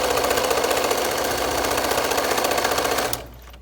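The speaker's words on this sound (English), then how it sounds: "and I can keep sewing" A sewing machine stitches a fabric mask in a fast, even rattle of needle strokes, loud and close, then stops abruptly near the end leaving quiet room sound.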